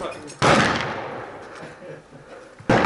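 Enemy gunfire at an Operation Cobra World War II re-enactment, two sharp loud reports roughly two seconds apart, each followed by a long echoing decay outdoors.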